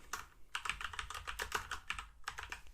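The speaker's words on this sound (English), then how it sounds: "So I'm just going to type out" Quick, uneven keystrokes clatter on a computer keyboard while a font name is typed out, close and fairly quiet, with short bursts and brief pauses and no voices.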